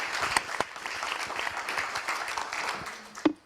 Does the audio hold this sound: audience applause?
yes